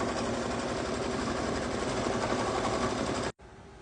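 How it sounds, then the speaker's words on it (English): An embroidery machine stitches rapidly and continuously, tacking Pellon interfacing onto a Christmas ornament; a steady close mechanical whir with fast needle rhythm that stops suddenly, leaving quieter room noise. "Now we're going to take this back to the embroidery machine and tack down the Pellon."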